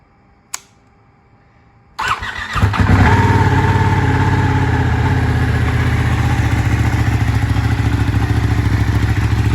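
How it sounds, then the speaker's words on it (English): A Ducati Panigale with a new starter motor at 38,000 miles cranks briefly after a click, then catches and settles into a loud, steady, close-up idle. "let's fire her up and see how this new starter works"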